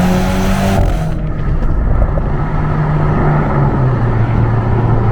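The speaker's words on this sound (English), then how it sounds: "Let's do a hard launch here." A 2022 BMW Z4 launches hard from a stop sign, its engine revving up and then pulling through a gear change, the exhaust drone rising steadily and loud from inside the cabin.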